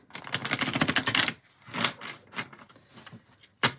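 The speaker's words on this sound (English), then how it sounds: "One more shuffle, please." Wizard's Tarot cards are riffled and shuffled close up in a dense, crisp flutter of papery clicks, followed by several softer, scattered card snaps and a final sharp flick, with no talking.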